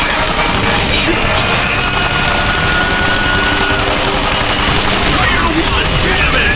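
Dense, continuous gunfire in the Rambo arcade rail shooter, loud and relentless, with rapid overlapping shots and booms forming an unbroken roar throughout.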